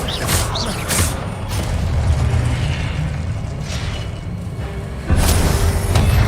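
Descendo spell cast in the video game Hogwarts Legacy, heard as a heavy magical slam with booming low rumble and sharp bursts near the start, a sustained roar, then another loud impact near the end.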